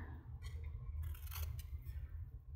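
Scissors snipping paper while making a glue book, a few faint close clicks and short cutting strokes over a quiet low background hum, no talk.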